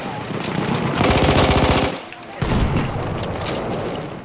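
Rapid bursts of video game gunfire, shotgun blasts among them, rattle off loudly in a dense barrage, pause briefly, then resume, with faint talk beneath.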